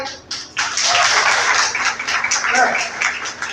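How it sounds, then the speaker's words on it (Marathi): An audience at an award ceremony and 27th anniversary celebration of a senior veterinarians' foundation breaks into loud, sustained applause that starts after a short pause and continues steadily throughout. "एकदा जोरदार टाळ्या वाजून होऊ द्या"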